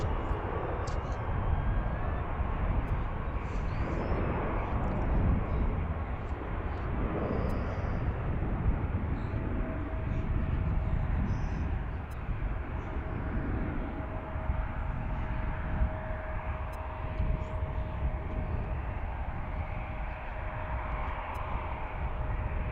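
An American airliner departs runway 15 at Washington's DCA, heard as a steady, loud broadband jet roar with a faint sustained tone, continuous throughout outdoors.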